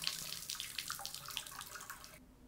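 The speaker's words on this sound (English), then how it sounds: "I'm getting a lot of pressure from the shower head with very minimal water coming out of the tub spout" Water from a bathtub spout trickling weakly while the shower runs with strong pressure, a steady close hiss that stops abruptly near the end, during a repair on a leaking tub spout diverter.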